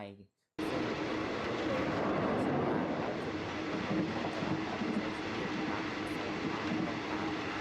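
Steady rumbling interior noise of a moving train between Phitsanulok and Phichit, Thailand, continuous and fairly loud, with faint rattles and occasional squeaks throughout.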